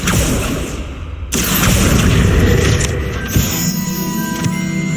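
Explosive blast from casting the Confringo spell in Hogwarts Legacy, a loud booming burst layered over continuous dense game ambience and effects, with other spell sounds nearby.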